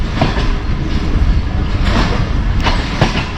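The Mianwali Express passenger train runs on rails on the journey from Lahore to Mianwali, a loud close rumbling roar with rhythmic clacks of wheels over rail joints throughout.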